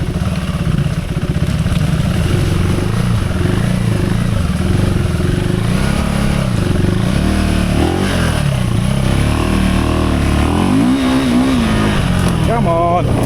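KTM 390 Enduro R single-cylinder motorcycle engine, fitted with a new rear Michelin Tracker tyre, revving and changing pitch continuously on a first ride, with a voice talking over it.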